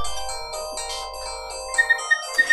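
Phone ringing indoors, a repeating electronic ringtone sounding in short regular pulses over a steady tonal background hum, fairly loud and close, with no talk.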